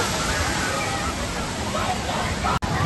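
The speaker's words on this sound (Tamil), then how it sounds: "இது பாருங்க இப்போ வரப்போகுது தண்ணி. பாருங்க எவ்வளோ ஃபோர்ஸாக வருதுன்ட்டு." Water gushes forcefully down a water park ride at Mt Olympus Water Theme Park in Wisconsin Dells, a steady loud roar and slosh with crowd babble mixed in, cut by a brief dropout near the end.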